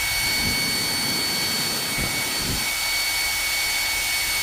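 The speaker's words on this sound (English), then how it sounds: "if I press once again, now the circle becomes blue, meaning that it will blow only cold air, and it is really cold" A Xiaomi H500 hair dryer on its cold setting blows a strong, steady, close-up rush of air with a high whine. It runs evenly throughout with no talking.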